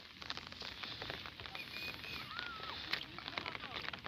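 Steady rain falls over a village in a dense, even hiss, with scattered nearby drips and patters. Faint background sounds rise and fall beneath it, and a few voices may be present.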